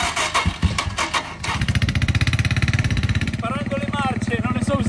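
A boda boda motorcycle taxi engine in Tanzania revs and idles with a steady pulsing throb, close and fairly loud, while voices talk over it throughout.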